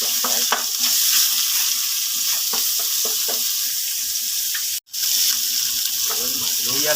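Garlic and onion sauté in margarine in a pan, giving a continuous crackling sizzle with scraping stir strokes and a brief cut near the end.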